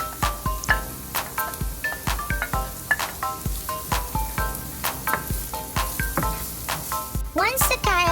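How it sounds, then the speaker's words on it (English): Carrots sizzle as they drop into a hot frying pan for a scrambled egg dish, with steady crackling and repeated sharp clicks of a utensil against the pan, up close and alone. "After 30 seconds, we can add the carrots."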